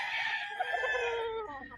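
A Tornado Hatch bloodline gamefowl rooster gives one loud, close crow that rises and trails off over about two seconds, with no talk over it.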